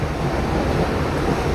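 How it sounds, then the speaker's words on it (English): Jungle river rapids roar loudly and continuously, heard from a boat, a dense broadband churn of close rapids, with no voices. "this is a great rapid"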